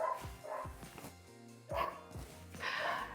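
A dog barks several times in short bursts, close and fairly loud, with pauses between the yips and barks.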